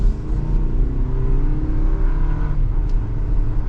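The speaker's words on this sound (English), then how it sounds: "Kind of feel out this turbo engine and 8-speed" A 2023 Toyota Highlander Limited AWD's turbocharged engine with an 8-speed automatic pulls under acceleration, a steady loud rising drone heard from inside the cabin.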